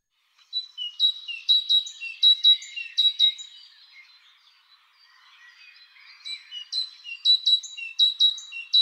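A small songbird sings up close in two bouts of bright, repeated chirping phrases, quick notes falling into a rhythmic pattern, with a brief quieter gap between the bouts and no other sounds.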